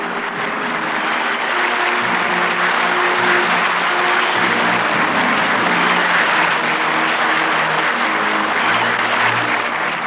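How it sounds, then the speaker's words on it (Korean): Dense, sustained standing applause from a crowd of about 3,000 at a South Korean presidential inauguration ceremony, loud and steady throughout, with a faint low tone underneath. "모두 일어서서 환영의 박수를 보냈습니다."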